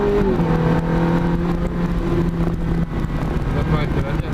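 A Ferrari, one with about 90 to 100 extra horsepower, accelerates along a straight during a driving course, its engine tone rising steadily beneath continuous in-car conversation.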